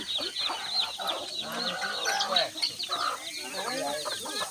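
A flock of backyard chickens cluck and chatter busily while pecking at insects in the afternoon, with a rooster among them; dense, close, continuous clucking.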